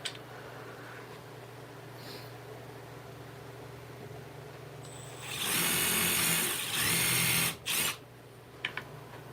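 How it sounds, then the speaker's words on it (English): A quiet workshop hum, then a power drill whirs loudly into wood, with a scrap piece of wood beneath, for a few seconds, stops briefly, runs again, and cuts off. "Let's drill the hole."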